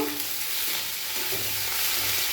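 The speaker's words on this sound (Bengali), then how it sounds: "পেঁয়াজ ভালো করে নাড়াচাড়া করে হালকা ব্রাউন করে ভেজে নেব।" Chopped onions frying in a pan for a spicy ghugni recipe, a steady close sizzle with scraping stirring strokes as they cook toward light brown, continuous and fairly loud with no talk.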